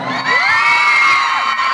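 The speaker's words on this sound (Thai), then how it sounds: "ขอเสียงกรี๊ดให้กับทั้งห้าสาวอีกครั้งหนึ่งนะครับ" A large crowd at a fashion show screams and cheers loudly, with high shrieks rising and falling over a continuous roar of voices.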